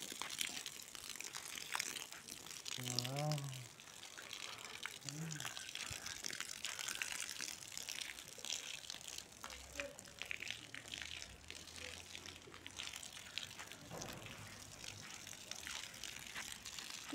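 Flower plants in pots being watered by hand, with a soft, steady trickle and splash of water running throughout, a voice talking over it at moderate distance.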